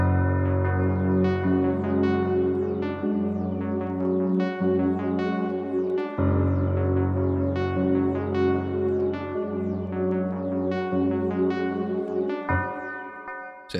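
Hard ambient beat in FL Studio with a synth arp, piano and pad playing the same melody together over a deep sustained bass layer, a full, continuous instrumental mix with no talking.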